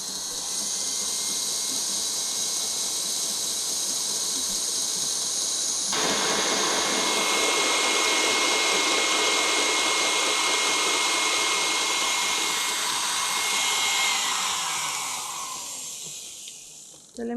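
Electric mixer whipping Italian meringue for buttercream: a steady loud whirring hiss that rises in pitch and intensity as the speed is increased, continuing for several seconds before winding down near the end.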